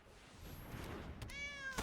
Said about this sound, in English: New cat, who this?